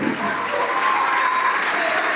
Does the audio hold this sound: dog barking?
no